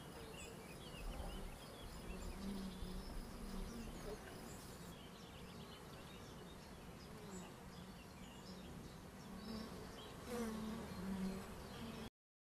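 A dense swarm of bees in a hive box hums steadily and close by, an unbroken drone that swells slightly in places.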